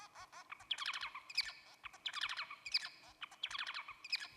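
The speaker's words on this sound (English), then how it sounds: "the Bengalese finch will produce songs that sound sometimes like this." Bengalese finch song plays in quick bursts of high chirping syllables with short repeated notes, faint and recorded in a quiet setting.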